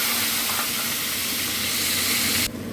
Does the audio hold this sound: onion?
yes